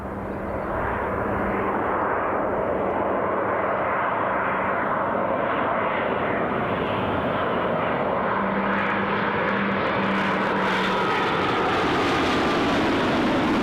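An airplane at Newcastle International Airport gives a steady, loud jet-engine roar that holds throughout and swells slightly toward the end, with no talking.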